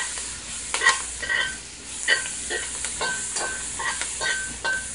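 Chopped onion sautés in a pot for Jamaican curry snapper, a soft steady sizzle broken by repeated scraping stirs of a spoon against the pot, close and fairly quiet, with no talking.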